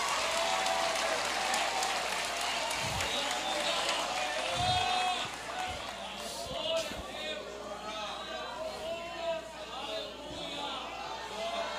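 A church congregation applauding together during a family congress service, broad steady clapping and crowd noise filling the space, fading slightly partway through.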